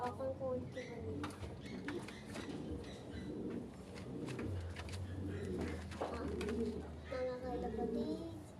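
Pet pigeons cooing steadily in a loft, low rolling coos repeating under constant background noise, with scattered chirps and other bird sounds mixed in.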